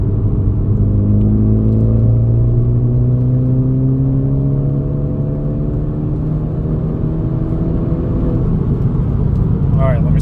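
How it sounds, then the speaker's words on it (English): A flex fuel Ford Focus ST accelerates hard through a 4th gear pull, heard from inside the car. The engine drone climbs steadily in pitch over a loud rumble for about ten seconds. "I'm going to try to do a 4th gear pull while recording so you guys can see"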